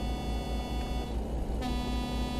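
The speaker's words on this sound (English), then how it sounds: "I'm loving that air horn" Air horn of a truck in American Truck Simulator, a loud, steady blaring tone held for the whole moment over engine rumble, the pitch shifting slightly partway through, with no voices.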